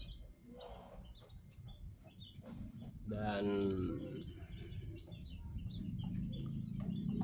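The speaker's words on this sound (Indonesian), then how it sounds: "kita lihat ayam-ayam kita nih pada makan" Chickens cluck and peck as they feed and drink in a coop, a steady scattered clucking close by with one louder call bursting out midway, while a person talks over the flock.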